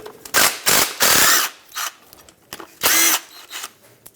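A power tool drives out the two 10mm headed bolts on the crank position sensor bracket of a 2008-2012 Honda Accord 3.5L V6, in several loud, close bursts of whirring with short pauses between.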